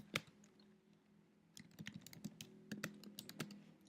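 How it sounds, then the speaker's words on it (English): Typing on a computer keyboard to enter search terms, a quiet run of soft clicking keystrokes with one sharper tap at the start, then a brief pause and a steadier burst of taps. "You'll just click at the beginning of it and then type in the terms that you're interested in."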